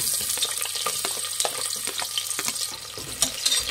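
Sliced onions fry in hot oil in a pressure cooker for masala kushka rice, a busy crackling sizzle with frequent small spatters and stirring taps, close and steady, with no talking.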